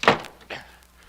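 A door shutting in an old-time radio mystery drama: one sharp thunk followed by a quieter knock, brief and close, with no speech over it.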